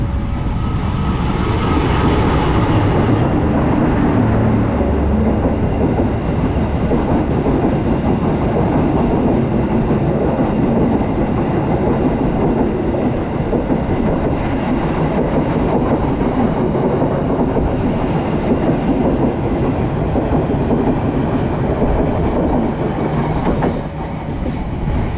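A train rolls past at Cikampek station with a loud, continuous rumble and steady clickety-clack of wheels on the rails, close and unbroken for the full length without any talk.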